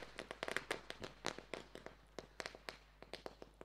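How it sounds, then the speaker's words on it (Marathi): A string of firecrackers set off to welcome a guest gives a rapid run of sharp pops and crackles, dense at first and then more spaced out, faint and distant with no voices. "त्यांच्याच स्वागतासाठी मात्र हे फटाके मात्र वाजवले जातात"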